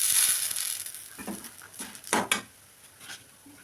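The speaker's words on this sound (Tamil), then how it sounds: "இப்போ காஞ்ச மிளகாய் போட்டுக்கலாம்." Dried red chillies drop into a frying pan with black gram dal, giving crisp crackling and rattling bursts against the pan, loud at first and then dying to scattered pops.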